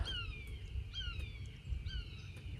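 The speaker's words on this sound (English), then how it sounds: "Sounds like a hawk." A hawk calls three times in descending, slurred whistles spaced about a second apart, fairly distant over a low rumble on a chilly, foggy river morning.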